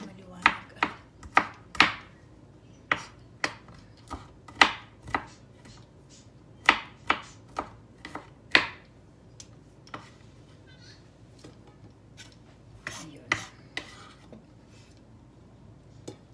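Garlic is crushed and then chopped on a board with a knife, giving a series of sharp, close knocks in irregular bursts of quick strikes and gaps, with quiet moments between.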